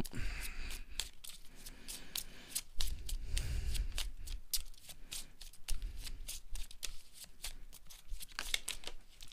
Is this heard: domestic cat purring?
no